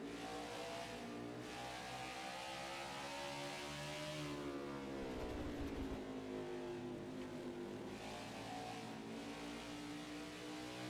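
A NASCAR 21 stock car in the video game accelerates hard with a loud, steady engine drone that rises and falls in pitch as the throttle is pushed, continuous and close throughout.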